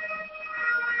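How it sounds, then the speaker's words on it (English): An emergency siren, ambulance or police, wails steadily in the background during an online live hangout, moderately loud and sustained through the moment. "your ambulance is going by, but or the police, they're coming to get you."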